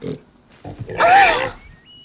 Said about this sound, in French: Oh, ce cochon. Espèce d'idiot, vous avez fini de brailler comme ça?